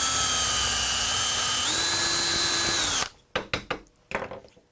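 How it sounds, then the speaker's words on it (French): A power drill whines steadily as it drives into driftwood, its pitch stepping up partway through, then stops, leaving a few sharp knocks and handling clatters. "soyez bien prudents là, quand vous utilisez la perceuse quand même"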